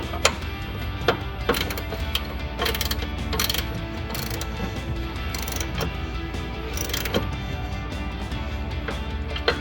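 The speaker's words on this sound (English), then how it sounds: "socket on the outside, wrench on the inside" A socket and wrench tighten the control arm bolts on a 1994-2004 Mustang, giving rapid, steady ratchet clicking, close and continuous, with a few sharper metallic clicks.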